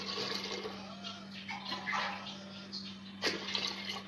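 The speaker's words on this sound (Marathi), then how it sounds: "त्याच्यात आता पाणी घालू आपण शिजायला." Water poured into a pot of lentils set to cook, a steady splashing pour running for a few seconds with a short fresh gush near the end, fairly close and with no talk.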